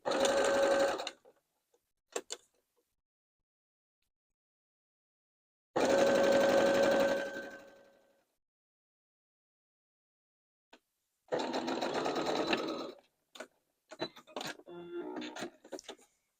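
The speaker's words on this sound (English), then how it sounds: "I'm going to sew pretty close to the edge here and only as much as I need" A sewing machine stitches fabric for a wine bag in three short bursts of steady whirring, separated by quiet gaps and small clicks, close and fairly soft, with no speech.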